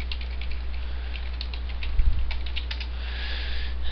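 Light clicking of computer keyboard keys, faint scattered taps over a steady low hum, with no talking.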